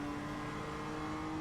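A race car sweeping past in the iRacing simulator, with a steady engine drone and whine at low-moderate level and no speech over it.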